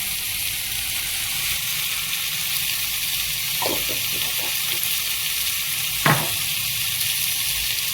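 Black cumin seeds and two dried chillies sizzle in hot oil, a steady high hiss with a few faint crackles and one sharp pop. No voices are heard.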